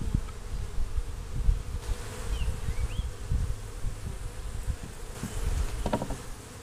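Honey bees buzz around an open, tightly packed hive during an inspection, a dense continuous hum close by, with individual bees droning past now and then and faint handling knocks of the hive.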